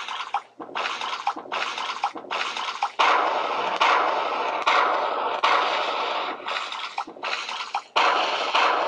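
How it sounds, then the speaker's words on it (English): Cannon fire from ships in the Battleship Shooter mobile game on iPhone, heard as a series of short, bright bursts, several blasts repeating roughly every half second to second, with a denser continuous stretch of firing midway, no talking. "That's his ship shooting that cannon up in the right, and my ship is shooting the other cannon."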